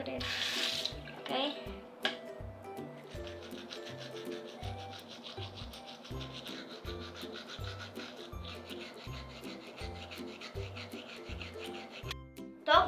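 Tap water runs steadily into a bathroom sink for washing, a continuous close hiss with splashing, while a rhythmic pulsing music bed plays underneath and a brief voice is heard near the start.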